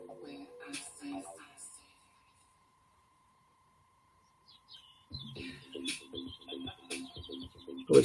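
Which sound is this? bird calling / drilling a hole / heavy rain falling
bird calling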